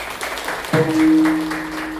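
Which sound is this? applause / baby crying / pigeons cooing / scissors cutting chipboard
applause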